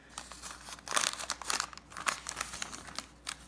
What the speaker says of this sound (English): Just gonna rip this.